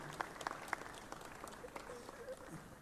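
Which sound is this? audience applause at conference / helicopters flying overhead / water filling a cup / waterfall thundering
audience applause at conference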